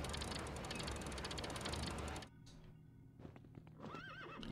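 Horses in the Lego Indiana Jones video game: a dense clatter of hooves and mechanical rattling, then after a sudden drop a horse whinnies clearly near the end, with no talk.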